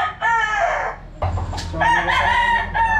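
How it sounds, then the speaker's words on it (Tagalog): A White Kelso gamecock stag crowing and clucking on a poultry farm, loud and close, with repeated harsh crow phrases and bursts of clucks. "Ayan yung isang stag natin na White Kelso over 20k Grand Kelso."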